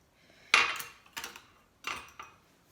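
Utensil mixes chocolate pieces into banana muffin batter in a bowl: three separate clattering scrapes against the dish, fairly close and sharp, with quiet pauses between them.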